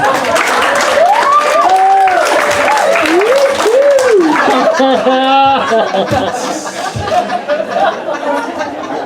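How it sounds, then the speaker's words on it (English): Comedy club audience applauds and laughs loudly, with chuckles and a few whoops over the clapping before it thins into scattered claps and chatter. "let's just give him a round of applause."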